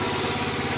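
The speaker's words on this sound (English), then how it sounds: "So there she is idling." A stock Honda Z50R minibike engine idles steadily, a close, even, buzzing putter with a fast regular pulse and no other sounds over it.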